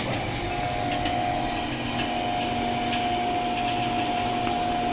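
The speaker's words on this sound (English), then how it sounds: "now the vacuum pump is sucking the air from the tank." Vacuum pump running on a button-controlled vacuum emulsifying mixer, drawing air out of the tank: a steady, close mechanical drone with a constant whine and faint rhythmic ticking, no talking.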